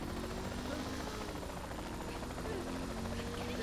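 Helicopter in Saints Row: The Third, a faint, steady rotor chop with continuous low buzzing engine drone throughout, quiet and distant in level, with players speaking over it.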